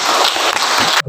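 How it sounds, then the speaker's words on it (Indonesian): Audience applause at the opening ceremony of a teacher education and training event in Sikka regency: dense, steady clapping from a crowd filling about a second, then stopping abruptly. "Kita tepuk tangan untuk kita."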